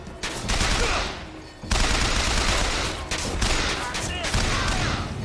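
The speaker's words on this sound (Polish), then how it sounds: "Tam już ktoś do nas strzela" Rapid enemy gunfire in BioShock Infinite, sustained loud bursts rattling nearly continuously with a brief lull partway through and heavy low rumble throughout.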